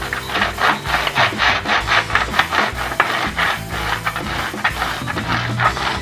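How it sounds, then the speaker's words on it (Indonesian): Close, steady rubbing and scraping strokes over an aluminium sheet being worked evenly to raise calligraphy, with a fast repeated rasping rhythm that carries on without a break and no voices. "Sampean gosok merata terlebih dahulu. Sampai betul-betul merata."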